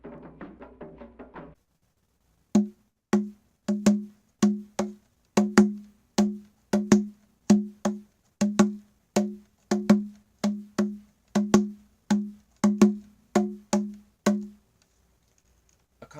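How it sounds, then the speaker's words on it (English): The sub-Saharan African standard pattern rhythm is played as sharp, woody strokes in an asymmetric repeating cycle that runs for over ten seconds, close and dry, after a brief bit of faint sound at the start. "the most common structure in sub-Saharan music is called the standard pattern"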